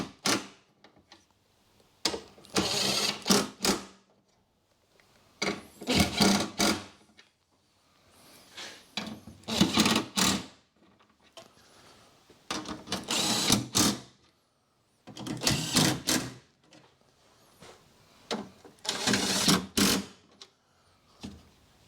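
A power gun tightens parts during a spark plug change on a 2010 Honda Jazz 1.2 petrol, whirring in about six short, loud bursts with brief pauses between them.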